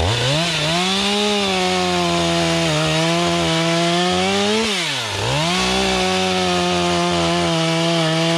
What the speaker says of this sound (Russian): Давайте попробуем отпилить несколько бревнышек и посмотреть,